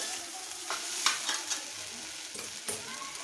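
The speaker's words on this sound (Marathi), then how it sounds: "तांदूळ थोडा परतून घेऊया" Rice sautéing and being stirred in a pan for pavte bhaat, a steady sizzle with a few sharp scraping strokes of the spoon, close and moderately loud with no talking.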